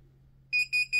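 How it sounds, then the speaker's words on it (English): A digital timer on a baseball cap heat press gives three short, evenly spaced high-pitched beeps over a faint low hum. "And it makes a beeping sound."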